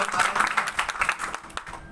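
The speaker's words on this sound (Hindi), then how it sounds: "एक बार इनके लिए जोर से ताली बजाइए आप लोग" An audience at a college campus event claps in a brief burst of loud, irregular applause, with a voice mixed in.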